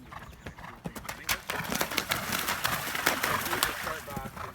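Horse hooves trotting during a cross country riding lesson, a brisk run of clip-clop beats close by with a brief whinny, while a rider and instructor talk over it.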